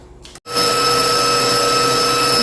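Electric hand mixer whirring steadily at close range while beating egg whites with sugar to stiff peaks for a saffron pistachio Swiss roll, a constant loud motor drone after a brief start.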